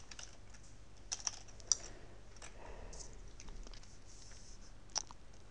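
Quiet typing on a computer keyboard while entering a maths expression, with irregular soft key taps and a few sharper clicks, close and faint, no talking.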